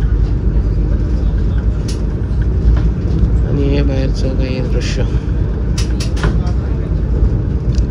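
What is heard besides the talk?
train running at speed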